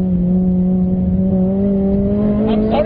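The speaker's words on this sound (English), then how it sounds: "Just listen to that VTEC noise. It is unbelievable." A Honda Mugen RR engine revs hard with VTEC engaged on a test drive, a loud close-up rising drone that climbs steadily in pitch for about three seconds.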